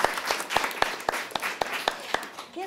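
At a school class ceremony, a clapping audience is led by a few loud claps that land at a regular, slightly uneven pace, with a light spread of hands filling in around them.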